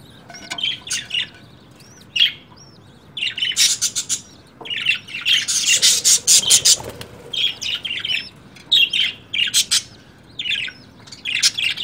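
A colony of breeding budgies makes dense, close bursts of chirping, chattering and sharp squawks, overlapping and irregular, with brief quieter gaps and no voices.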